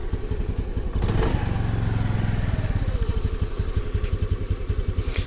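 A Honda NAVI motorcycle engine idles steadily after warming up, a loud, close, even putter with a rapid regular pulse and no talking over it.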